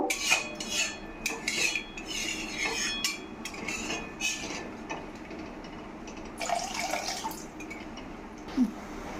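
Water is poured into a cooking pot on a fish dish amid clinks and clatter of utensils and metal cookware, with a brief splashing gush partway through, close but fairly soft.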